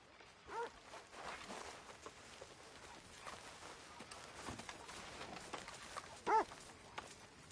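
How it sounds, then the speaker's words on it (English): A dog barks in the Red Dead Redemption II video game: a couple of short barks at the start and near the end, set against a busy background of game ambience with faint footsteps. "Arthur, a dog."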